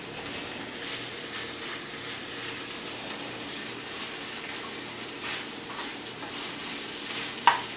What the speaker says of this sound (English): continue rendering off this bacon